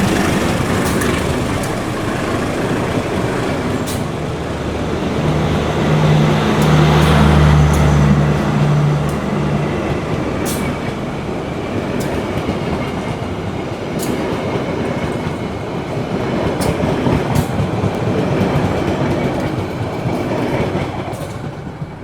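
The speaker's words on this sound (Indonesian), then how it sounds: "itu tadi kereta api Brantas sudah melintas di sini" The Brantas passenger train from Pasar Senen bound for Blitar rumbles past at night on a railway line through quiet forest, its loud, close roar carrying regular clickety-clack wheel beats over the rails for about twenty seconds.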